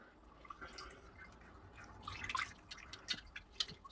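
Water drips faintly and irregularly from an Anthurium regale plant as it is being washed, with scattered small drops pattering over a soft background hiss.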